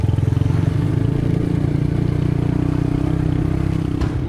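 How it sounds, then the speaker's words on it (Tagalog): A rescue team's motorcycle rumbles steadily along a rough rural road in Mindoro, with a loud, continuous engine drone and rattling as it rides over uneven ground. "sumakay sila sa motor."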